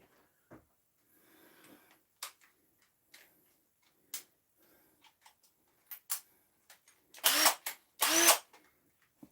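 A power drill bores a hole for a screw in a woodshed, heard as short separate bursts and clicks that end in two louder, longer whirring pulses. The sound is close and otherwise quiet, with no speech.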